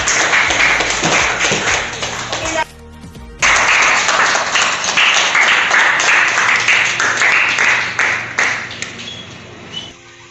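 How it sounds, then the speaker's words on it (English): Audience applause for a director at a scholarship program event, loud close clapping that cuts out briefly and then resumes, with ringing tones mixed in before fading at the end. "A round of applause, please."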